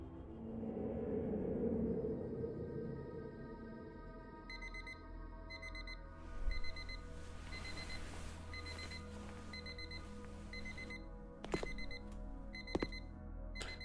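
A ringing alarm clock in The Shattering video game beeps in repeated short, evenly spaced bursts over a low rumble, with a few sharp knocks toward the end.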